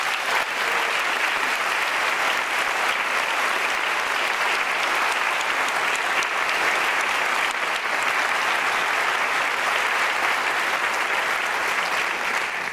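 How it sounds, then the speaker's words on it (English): A seated crowd at a school board welcome event in Worthington gives a steady, dense round of applause that holds at an even level for its full length without any talking. "So if you could give them a round of applause."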